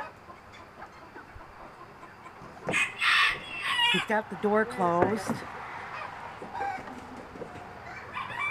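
Chickens in a flock cluck and squawk loudly as someone catches them, with a burst of agitated calls in the middle of the clip. A voice speaks briefly.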